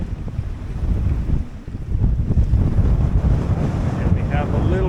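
Strong wind of about 25 knots roars over a junk-rigged sailboat hove to at sea off Halifax, with steady gusty buffeting across the microphone and a continuous wash of water.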